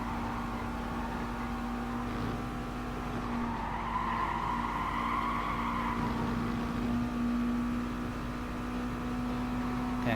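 Race car in Gran Turismo Sport at Spa, a continuous engine whine rising and falling with tire squeal through corners, loud and steady, close to the car.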